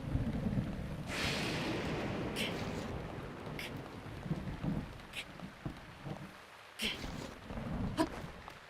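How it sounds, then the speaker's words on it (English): Constant rainfall in Breath of the Wild pours down as a wide steady wash, with occasional sharper bursts and thumps cutting through, and no speech over it. "Why is it always gotta be raining?"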